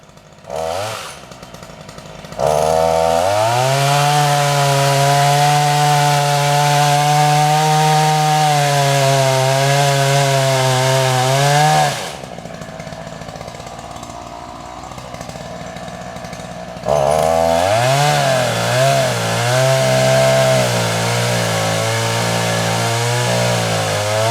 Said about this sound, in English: The chainsaw started finally.